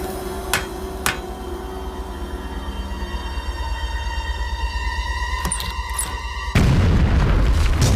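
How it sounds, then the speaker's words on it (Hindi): Cartoon explosion blasting a rock apart, a sudden loud broadband boom that bursts in near the end and holds steady, after a stretch of sustained tonal music and a couple of sharp hits. "उड़ा दो इस चट्टान को।"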